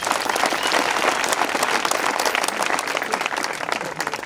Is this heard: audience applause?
yes